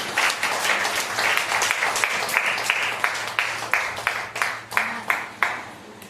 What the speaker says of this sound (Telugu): దయచేసి చప్పట్లు కొడుతూ సేవకుని ఆహ్వానిద్దాం.